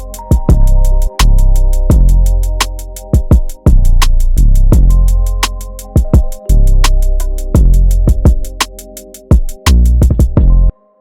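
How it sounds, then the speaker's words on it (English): Trap beat built on punchy drums, booming 808 bass and sustained keys, with open hi-hats, in a smooth guitar-flavoured style; loud, dense and continuous, with repeated heavy kicks and bass drops throughout. "The drums with the 808 and the keys sounds like this."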